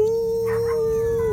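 A human voice imitates dogs howling in the dead of night, giving one loud, close, sustained howl that holds a steady pitch before dropping away at the end.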